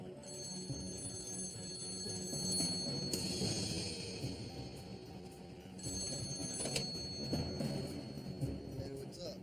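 A telephone bell rings in repeated bursts, loud and close, with short pauses between rings, while people talk in the background.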